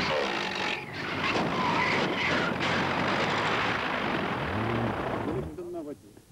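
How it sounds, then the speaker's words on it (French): Airplane engine noise swells over continuous engine roar as a plane makes an emergency landing in front of a car, with people talking over it. "l'avion doit se poser en urgence devant la voiture"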